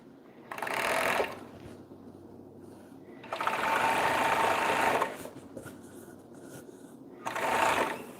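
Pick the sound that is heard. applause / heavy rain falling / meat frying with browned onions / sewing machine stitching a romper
sewing machine stitching a romper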